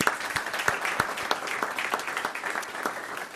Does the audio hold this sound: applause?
yes